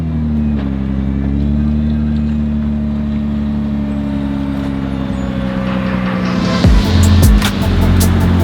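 A Nissan R35 GTR T-Spec with carbon ceramic brakes runs with a loud, steady low engine drone close by, which surges and grows rougher near the end.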